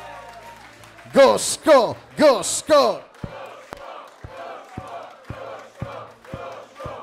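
Guests at a Polish wedding reception chant loudly in four rhythmic bursts, then break into steady, evenly spaced group clapping that continues to the end.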